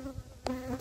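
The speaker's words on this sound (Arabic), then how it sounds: "نحل" Honey bees buzzing at a weak hive with only a frame or so of bees, a faint close insect hum broken by a brief louder buzz as one passes near.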